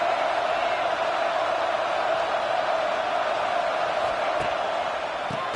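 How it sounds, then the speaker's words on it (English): A stadium crowd in the College Football 26 video game at an Ole Miss versus South Carolina matchup roars as one steady, dense wash of cheering, loud and unbroken throughout. "this crowd is ready"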